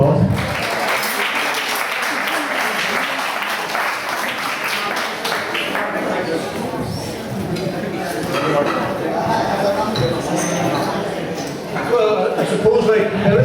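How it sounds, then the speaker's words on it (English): Applause from an audience at a book launch, a dense steady patter of clapping lasting through the clip and thinning slightly toward the end, with some voices mixed in. "Give a round of applause."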